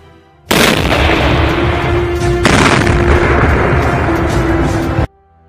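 Loud, continuous rumbling blasts and bursts from an explosion demonstration testing a Russian military uniform against fire, starting abruptly and roaring unbroken for about four and a half seconds before cutting off.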